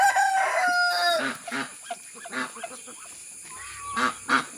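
Several fowl call near at hand: a rooster crows, a turkey gobbles and chickens cluck in short bursts.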